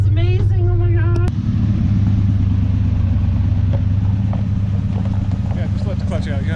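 A 1975 Ford Highboy truck with a swapped 390 engine drives along, a steady, loud low engine rumble running throughout, with brief voices over it at the start.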